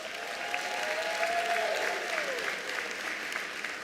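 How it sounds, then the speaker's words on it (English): A crowd at a ministerial announcement of exam results applauds steadily, a dense even clapping that carries on throughout with a faint tonal whistle in the background. "Let's give them a big hand of applause."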